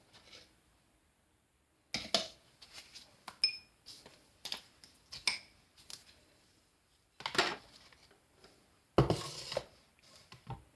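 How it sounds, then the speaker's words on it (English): A whisk works through an egg soap mixture in a bowl before lye solution goes in, giving bursts of clinking, scraping strokes with short pauses between them, close and fairly quiet. "Give this a whisk before I add in the lye solution"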